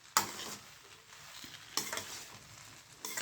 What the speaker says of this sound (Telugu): స్టవ్ ఐలో పెట్టుకొని చక్కగా బాగా కలుపుకోవాలి